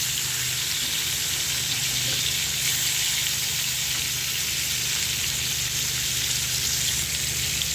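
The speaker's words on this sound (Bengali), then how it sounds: "তো আমাদের মাছটা ব্রাউন কালার করে অপর পাশটি ভাজা হচ্ছে" Catla fish pieces fry in hot oil in a pan, a loud, steady, bright sizzle that holds constant throughout without any talk.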